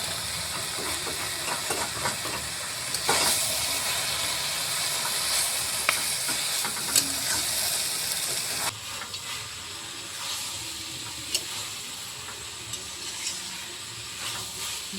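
Fish heads and cabbage fry in a pan for a cabbage ghonto, giving a steady close sizzle and hiss with occasional stirring scrapes. The sound drops slightly in intensity partway through, and no voices are heard.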